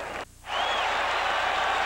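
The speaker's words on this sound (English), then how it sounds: "the crowd now trying to stir up the fire ant defense" A roaring football stadium crowd at a 1985 college game, Michigan at South Carolina, briefly dipping and then swelling into a steady, loud, sustained cheer.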